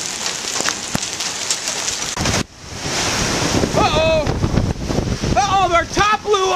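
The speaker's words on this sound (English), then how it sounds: "And here comes the hailstorm." Hail from a sudden storm pounds down outdoors on a lawn being mowed, a loud, dense, steady roar mixed with gusting wind, with brief voices calling out over it.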